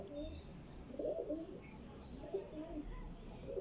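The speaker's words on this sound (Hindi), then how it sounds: "ओरिजिनल अमामदीन कबूतर है ये देखें" An original Amam Deen pigeon coos softly in short, low bursts, with faint bird chirps above and a muffled low background.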